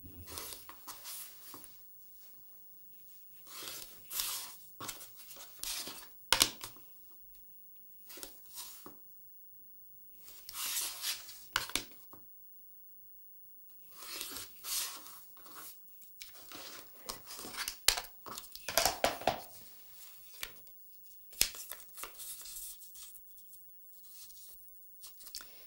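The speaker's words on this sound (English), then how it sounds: "So we're going to keep cutting that out." Quilt fabric pieces and a paper template being cut out with shears for an intermediate quilt block, giving bursts of close crisp snipping and tearing in irregular clusters separated by short pauses.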